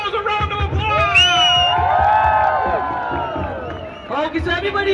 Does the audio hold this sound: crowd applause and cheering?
yes